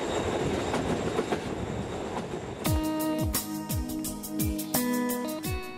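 A passenger train on a long rail journey in Poland, loud steady rumble and then rhythmic clickety-clack of wheels over rail joints, repeating beats close by with a metallic ringing tone.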